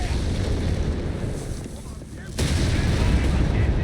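Tank and anti-tank gunfire in the video game Company of Heroes 3, with a Panther tank under fire from a Black Prince tank and 6-pounder guns: dense, rumbling battle blasts that dip briefly, then return louder.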